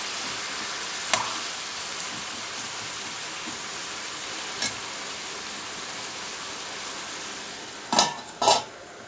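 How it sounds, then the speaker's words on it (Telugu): Food frying in a pan until it changes colour, a soft continuous sizzle punctuated by a few isolated metallic clinks and two louder scraping stirs near the end, no talking. "బాగా కలర్ మారే వరకు వేయించుకోవాలి"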